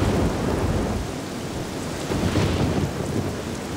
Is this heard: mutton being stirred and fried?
no